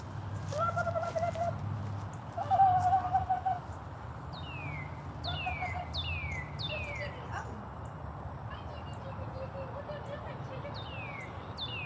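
Soft clucking from chickens sounds in short bursts near the start, while sharp chirping bird calls repeat over a low background rumble.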